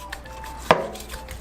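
A kitchen knife chops down hard through a fish head, likely a kijihata grouper, in one loud close thud against a cutting board amid quiet room tone.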